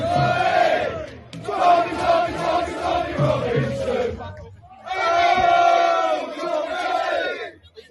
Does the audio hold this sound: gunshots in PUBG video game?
no